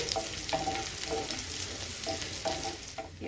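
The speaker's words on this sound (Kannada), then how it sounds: "ಇದನ್ನ ಒಂದು ಮಿಕ್ಸ್ ಮಾಡ್ತಾ ಇದ್ದೀನಿ. ಈರುಳ್ಳಿ ಚೆನ್ನಾಗಿ ಫ್ರೈ ಆಗಲಿ." Onions frying in a pan for chicken fry, a steady sizzle broken by rhythmic scrapes of a spoon stirring every half second or so.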